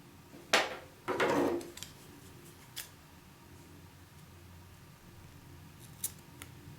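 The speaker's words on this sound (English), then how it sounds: "Now I will cut the yarn and secure it." Scissors snip through knitting yarn, a couple of sharp close cuts near the start followed by a few faint clicks of the blades in an otherwise quiet room.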